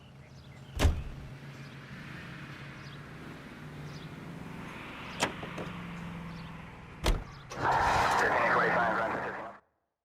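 Car driving in the video game L.A. Noire: a low steady engine hum runs throughout, broken by a few sharp thumps and a louder rushing swell near the end before cutting off.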